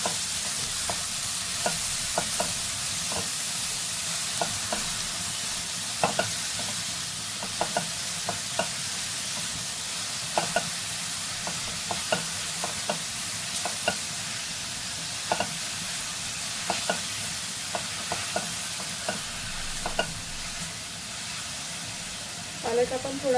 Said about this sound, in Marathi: पालक आपण थोडा वेळ परतवून घ्यायचा आहे आणि मग त्याच्यामध्ये आपण डाळ घालायची.